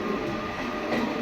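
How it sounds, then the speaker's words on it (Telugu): The Krishna Express, an Indian passenger train running from Adilabad to Tirupati, makes a continuous, fairly loud rumble of wheels on rails, heard steadily throughout. "యాదాద్రి నుంచి అయితే డిపార్ట్ అవుతుంది ట్రైన్"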